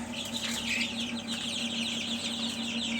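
Dense, continuous high-pitched cheeping from many chicks at close range, with a steady low hum running underneath.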